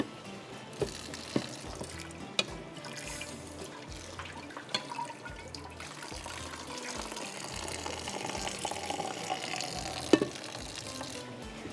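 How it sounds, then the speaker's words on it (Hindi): Water poured off a pot of mint rice into a sink, a steady running splash and trickle that holds for about twelve seconds with a few small clinks of the pot. "तो मैं यहाँ पर इसका पानी फेंक देती हूँ"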